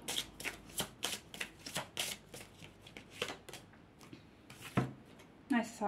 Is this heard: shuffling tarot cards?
yes